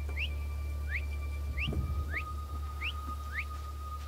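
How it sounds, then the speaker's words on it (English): Repeated two-note whistling in Assassin's Creed Odyssey, a rising chirp phrase looping about every half second over a steady low ambient hum, with faint thuds midway. "That whistling is driving me mad!"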